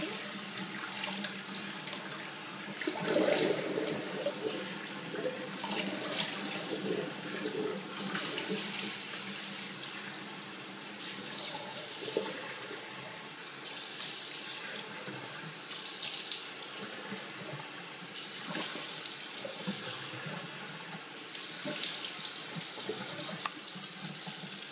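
A bathroom tap runs steadily for rinsing after a traditional wet shave, with water splashing into the sink. Hands move through the stream now and then, causing brief surges. The sound is close and fairly quiet, and nobody speaks.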